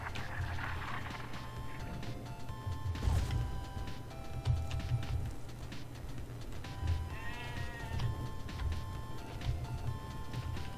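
Goats bleat repeatedly in the video game Dino D-Day over a busy, clattering background with metallic knocks and a low hum, the wavering cries coming in bursts.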